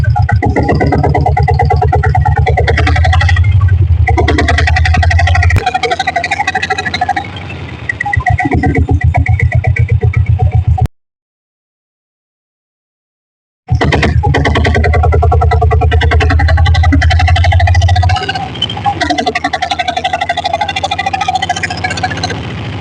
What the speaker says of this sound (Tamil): வண்டி ஸ்டார்ட் பண்ணி ஓட்டி காட்டுற பாருங்க.